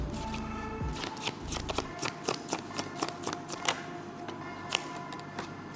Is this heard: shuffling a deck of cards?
yes